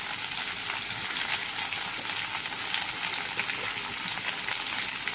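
Spice paste sizzling steadily in a pan with oil as it is fried down for a vegetarian dish, a loud, continuous hiss with no break and no talking.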